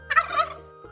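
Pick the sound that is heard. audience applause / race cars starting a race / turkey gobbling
turkey gobbling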